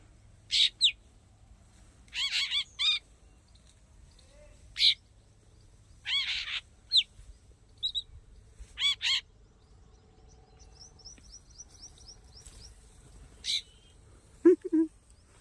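Sharp bird calls ring out in short bursts, several repeated chirps scattered across a quiet background, fairly close and clear.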